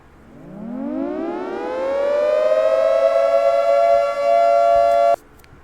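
A synthesized civil defense siren winds up from a low growl to a steady, loud wail, holding its high tone for several seconds before cutting off abruptly.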